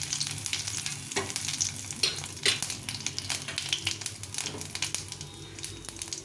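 Dry chillies, bay leaf, cumin seeds and two cardamom pods sizzle in hot oil for an egg curry, a steady close crackling hiss with occasional stirring scrapes and light clicks throughout, no voices.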